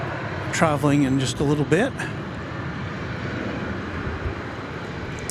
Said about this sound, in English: Landing there was American Flight 2438 from San Antonio